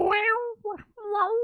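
A cat meows just outside a closed door, giving a quick series of three close, plaintive meows, the middle one shorter and softer.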